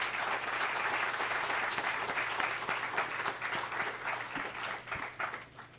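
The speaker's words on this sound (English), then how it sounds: "Can you give him a big applause?" Steady, dense applause from a large audience, many hands clapping continuously at moderate loudness with a few sharper claps standing out.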